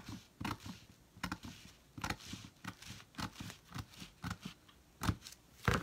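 Scissors cut through a tin can being trimmed for a craft project, making a series of about a dozen sharp, crunchy metal snips in an uneven rhythm, close and fairly quiet.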